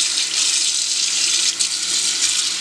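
Water pouring and draining from freshly shelled green peas in a colander at a kitchen sink, a loud, steady hiss of running water with no talk.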